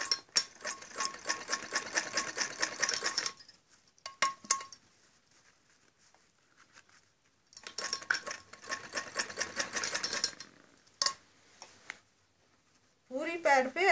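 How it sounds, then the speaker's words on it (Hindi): A sewing machine stitches a padded blouse in rapid bursts of needle chatter separated by pauses, close and clear, with someone speaking over and between the runs. "आप ऐसे थोड़ा हटा हटा के आराम से सिलाई लगा सकती हो।"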